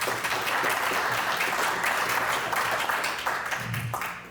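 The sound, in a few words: audience applause for candidates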